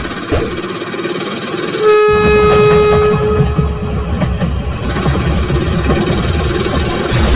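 A cartoon train engine approaches with a loud horn blast sounding partway through, over busy, dense rumbling and clatter.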